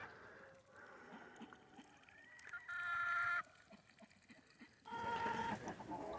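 Chickens clucking and murmuring inside a coop at night, with a few louder bursts of squawking and fluttering activity toward the end.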